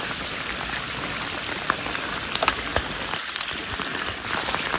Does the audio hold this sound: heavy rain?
yes